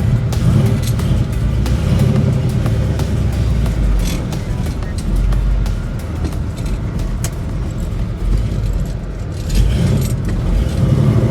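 A 1967 Chevelle SS tribute with a 396 cubic inch engine and four-speed manual pulls away for a drive, a loud, steady low engine rumble with road noise and some rattling from inside the car.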